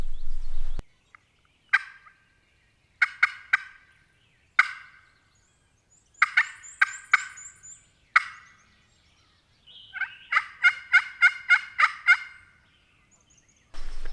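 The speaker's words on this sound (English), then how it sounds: "We heard more birds gobbling that way" Wild turkeys gobble in a series of rapid, rattling bursts, several calls overlapping and repeating across quiet gaps, sounding somewhat distant.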